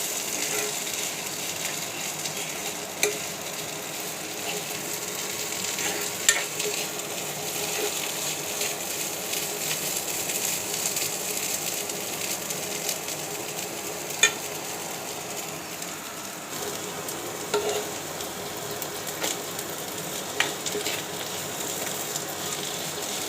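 Vegetable stalks sizzle and fry in a covered pan on a stove, a steady soft crackle with occasional sharp clicks and scraping taps, moderately close, with no voices heard.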